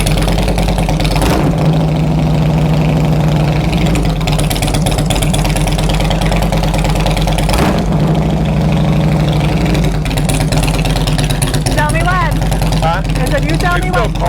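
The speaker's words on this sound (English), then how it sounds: "I love the way it revs up and it comes back down so fast now" Car engine idling loudly and close with a steady low rumble, briefly revving around the middle and settling back to idle, with people talking over it.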